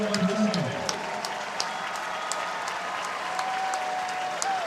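A stadium crowd at an Army Black Knights versus Hawaii Rainbow Warriors college football game applauds in a steady, dense wash of clapping that lasts throughout, with faint voices underneath.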